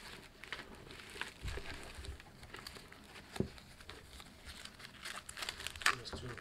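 Fabric Idogear Multicam helmet cover being stretched over an FMA Opscore helmet, soft crinkling and rustling with a few sharper snaps and taps, close and quiet.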